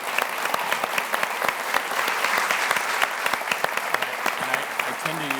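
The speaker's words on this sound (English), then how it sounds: "Y'all give him a round of applause." Applause from the audience at a debate on evidence for God, many hands clapping in a steady crowd texture with sharp individual claps standing out, moderately loud and sustained throughout.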